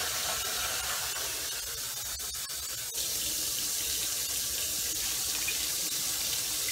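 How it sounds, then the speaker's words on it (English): Tap water runs steadily into a pot of seasoned raw peanuts being rinsed for boiling, a continuous close hiss and splash for several seconds with a few brief sharper clatters partway through and no speech. "now I'm gonna add my water and just rinsing the seasoning that I got on these peanuts right down in there"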